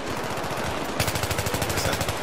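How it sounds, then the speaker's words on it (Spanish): Rapid automatic gunfire in the video game Battlefield 3, loud and close, with a sustained burst breaking into sharp evenly spaced shots. "¡Recibiendo fuego a las 12!"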